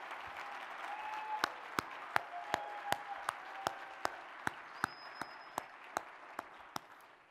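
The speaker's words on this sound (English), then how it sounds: "Can we give them a round of applause?" Steady audience applause fills a conference hall at a closing session, a dense wash of many hands with a few louder individual claps standing out at a regular pace, gradually fading toward the end.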